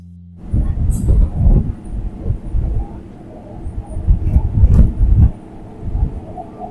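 Goghat Local 37375 UP rolls along the rails between Haripal and Goghat, heard from inside as a continuous low rumble with rhythmic clattering over the joints and a few sharp metallic squeals.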